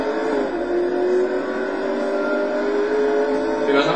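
A race car engine in the video game Total Immersion Racing, during a Lister Storm challenge, droning steadily at high revs with a slowly rising pitch, loud and continuous.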